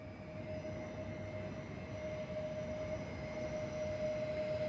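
A Koleje Mazowieckie Stadler FLIRT electric train pulls out of Warsaw Wschodnia station, a steady low rumble with a faint whine, moderately distant and without talk.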